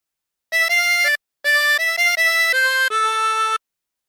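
A 16-hole tremolo harmonica plays a short phrase of The Wellerman: a few sustained notes, a brief pause, then a longer run of held notes, loud and close with no talking.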